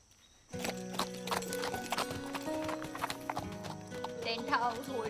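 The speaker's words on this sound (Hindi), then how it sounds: "तुम्हें घोड़ा चलाना नहीं आता ना?" Horse hooves clip-clop steadily as the animal is ridden at pace, with a neigh rising near the end, over a dense bed of film music and voices urging the rider on.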